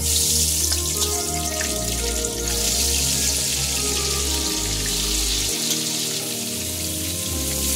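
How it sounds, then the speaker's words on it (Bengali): Pointed gourd (potol) pieces, rubbed with turmeric and salt, fry in hot oil with a continuous crackling sizzle close by, over a low steady hum, with no talking. "এবার আমি পটলগুলো ভেজে নেব"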